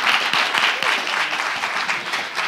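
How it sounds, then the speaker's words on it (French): An audience applauds at a debate event, with brief, dense clapping, moderately close, that fills the whole moment. "Est-ce que vous pouvez applaudir pour vous déjà?"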